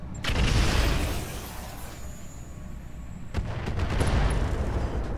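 Mortar fire in Roguetech BattleTech: two heavy booming blasts, the first opening strongly and rolling off, a second burst of booms near the end, loud and close with no voices.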